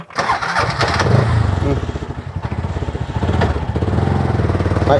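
Near and loud, a motorcycle engine catches and settles into a rapid, throbbing idle with slight revving, continuing steadily throughout while a voice speaks underneath.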